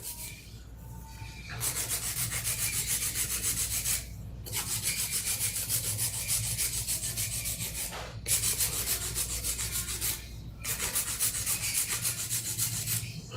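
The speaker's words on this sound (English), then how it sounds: "this file will probably be done after I'm using it because I'm using it for hand filing" Rapid rhythmic rasping of a nail file on nails, close up, in several long bursts separated by short pauses.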